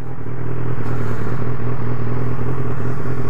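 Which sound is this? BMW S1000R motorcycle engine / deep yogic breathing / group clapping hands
BMW S1000R motorcycle engine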